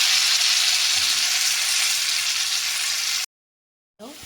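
Pieces of lentil cake (dhoka) frying in hot oil give off a loud, steady sizzle that holds for about three seconds, cuts to silence, then the frying resumes briefly.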